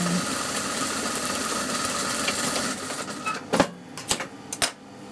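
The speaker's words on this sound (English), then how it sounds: "just overlock the inside of obviously the crotch area" An overlocker sewing machine stitches the inside crotch seam of a pair of trousers, a steady rapid mechanical whir that runs for a few seconds and then breaks into short stop-start bursts, with no talk.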